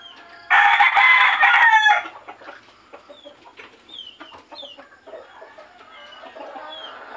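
A gamefowl rooster crows loud and close in one long call, followed by softer crowing and clucking from other roosters nearby, with no talking.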